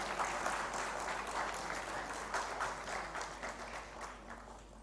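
A room of people applauds after a conference plenary acknowledgement, a quiet, fairly distant round of clapping that holds steady and slowly tapers over a few seconds.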